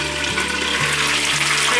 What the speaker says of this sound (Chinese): 再盖上锅盖继续煎